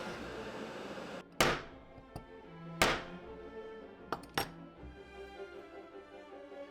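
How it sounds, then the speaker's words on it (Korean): Neodymium magnets are hammered into drilled holes in wood, heard as four or five sharp, close knocks at irregular intervals over a quiet background, with smaller taps between them. "중앙을 표시해두고 구멍을 뚫어준 뒤네오드뮴 자석을 박아줍니다."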